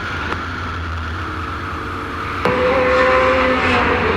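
A Chevy Can-Am 5-litre race car roars past during a racing series round, a low idle-like hum giving way to a sudden loud engine rise with a rising pitch, close and strong.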